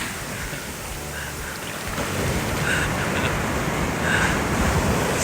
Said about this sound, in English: This might be our beach afternoon, watching these big waves hit us.